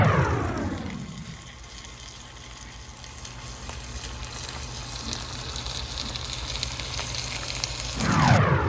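Cubes of tasso ham browning in a skillet, a steady close hiss and crackle of sizzling fat that fades slightly midway and swells again, with no talk.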